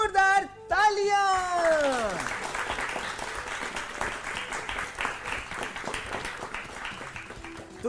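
A studio audience at a children's quiz show breaks into loud, sustained applause after a brief voice, with the clapping lasting several seconds before gradually thinning.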